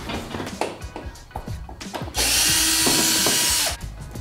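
A power drill runs in a sustained loud burst from about the two-second mark for nearly two seconds, loosening bolts on a BMW E36, preceded by scattered clanks and taps of handling parts.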